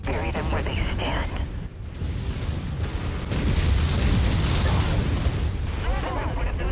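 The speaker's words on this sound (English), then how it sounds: "Oh, he's exploding." An enemy mech blows up in the MechWarrior 5 video game, a sustained loud rumbling explosion with booming bursts and mechanical clatter that swells toward the end.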